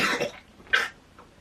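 A person playing a mobile game gives a single short cough, close and fairly quiet, followed by a fainter breathy throat sound and then near silence.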